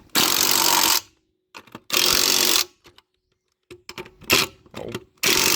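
An impact wrench works on a Suzuki Escudo wheel, giving two loud, close bursts of rapid hammering about a second each. Scattered clunks follow, then a third burst starts at the end.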